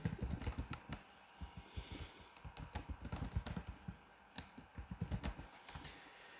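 Rapid keystrokes on a computer keyboard as a business name is entered into an online merchant signup form; quick irregular clicks close by and fairly quiet, with no voices.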